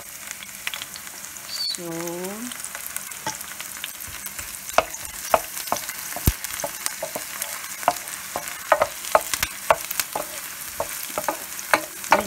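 Onions fry in a pan for bihon rice-stick noodles, a soft continuous sizzle with frequent sharp clicks of stirring that grow more regular, and a brief spoken word early on.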